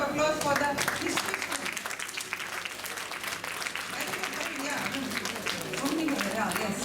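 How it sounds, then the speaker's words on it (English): Applause for history students at a National Science Day event, a steady crowd clapping with talking and other activity mixed in throughout. "Please give a big round of applause for the history students."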